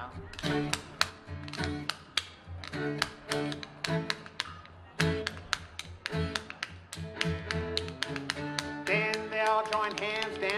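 Spoons rattled as percussion at an old-time folk music performance, fast sharp clicking rolls and accents in a steady rhythmic pattern, close and prominent, with voices and other sounds alongside.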